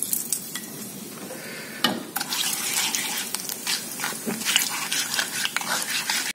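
Tempering seeds drop into hot oil for a brinjal chutney and set off a continuous close sizzle with scattered sharp crackles and pops, and a dog barks once in the background.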